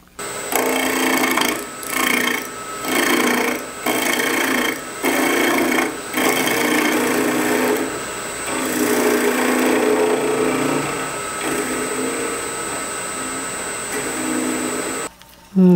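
Wood lathe turning a small piece with a freshly sharpened spindle gouge, a loud steady whirring hum with rhythmic pulses as the tool cuts in and eases off, ending in a brief clunk.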